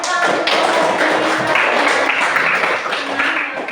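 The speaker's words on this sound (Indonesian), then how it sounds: "kita beri tepuk tangan untuk" Classmates applaud after a group presentation in a teacher-training class, a continuous, fairly loud patter of many hands clapping close by for several seconds, with a few sharper taps standing out.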